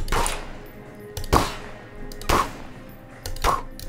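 Four spaced gunshots in Garry's Mod, each a sharp loud crack with a short tail, fired about once a second over a low background hum.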